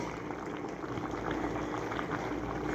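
Coconut milk at a rolling boil in an uncovered pot with bok choy, a dense, continuous bubbling and popping heard up close at a steady loudness.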